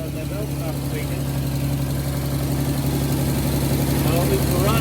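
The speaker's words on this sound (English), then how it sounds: "Sounds like it's idling down." 1990 Nissan 300ZX Z32 engine idling after new fuel injectors were fitted, a steady close, even hum with a constant low tone, while people talk nearby.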